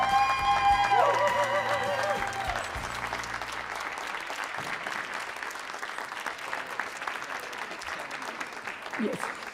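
Audience applause at an awards ceremony for a lifetime achievement honor, dense clapping continuing steadily after a brief musical flourish and voices at the start.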